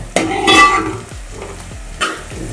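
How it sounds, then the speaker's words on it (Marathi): Peanuts for khichdi tossed in hot oil in a pan, a loud close rush of sizzle as they go in, then quieter frying with scraping stirs and a second sizzling burst near the end; no talking. "आणि शेंगदाणे सुद्धा या तेलामध्ये परतून घेणार आहे."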